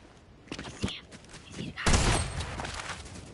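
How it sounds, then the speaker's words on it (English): Drum shotgun and other gunfire in a Fortnite match: scattered sharp shots build into a loud, dense burst of rapid blasts, with a voice exclaiming over the action. "The drum shotgun is OP!"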